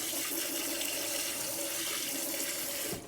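Hot water runs steadily from a tap into a sink for warming a jar of molasses while baking gingerbread, a loud continuous gush that stops abruptly at the very end, with no voices.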